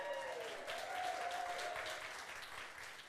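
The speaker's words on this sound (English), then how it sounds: "Give Jenny the drummer a big round of applause." Studio audience applauding for a drummer on a comedy show, a steady, fairly quiet wash of clapping that tapers slightly toward the end.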